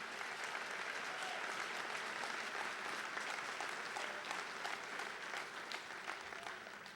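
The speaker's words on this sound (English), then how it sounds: "the student body here in the gym today deserves a huge round of applause" A student body gives sustained applause inside a school gym during an honors assembly, dense and even and heard from some distance, fading slightly at the end.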